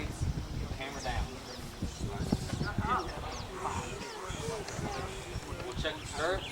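Horses walk on a trail at Philmont Scout Ranch, their hooves clip-clopping in a loose, uneven rhythm close by, with leaves rustling and a person talking over the steps.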